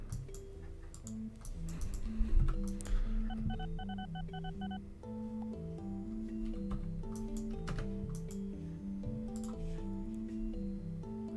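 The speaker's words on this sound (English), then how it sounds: "I think that was a notification sound you probably just heard from my computer." Computer notification chime: short tonal electronic beeps over a soft rhythmic background of ticks and tones, faint overall.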